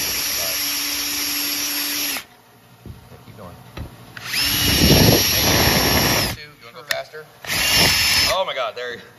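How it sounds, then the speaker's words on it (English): A power drill whines loudly in bursts, running steadily for about two seconds, stopping, then spinning up again twice with pitch shifts as it loads and lets off, apparently while working on a broken valve spring, with brief pauses between runs. "You'll hear the drill change, too."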